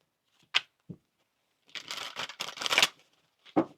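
Tarot cards being shuffled on a table in brief dry riffles and taps, a couple of quick flicks followed by a longer run of close, crisp card noise.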